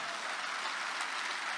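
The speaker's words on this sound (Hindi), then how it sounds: "अच्छा हो तो ताली बजा लो।" A poetry audience claps steadily at a mushaira recital, a dense, continuous burst of applause with no voices over it.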